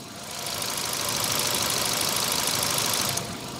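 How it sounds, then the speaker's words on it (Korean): A Kia New Morning LX small car engine idles steadily for several seconds, a smooth even hum with a faint ticking texture, recorded close up in the engine bay. "엔진룸 한번 보여드리도록 하겠습니다 자 보시죠 자 우선 소리 한번 같이 들려드리겠습니다"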